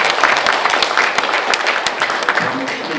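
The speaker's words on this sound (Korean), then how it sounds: "한 번 더 박수로 맞이해 주실까요?" An audience at a 2017 general assembly of a Korean social safety association applauds to welcome a civic group leader. The clapping is dense and steady throughout, with a voice briefly audible near the end.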